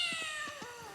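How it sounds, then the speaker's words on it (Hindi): A cat meows a few times in quick succession, close and fairly quiet, with a thin background tone underneath. "अबे बिल्ली होती है।"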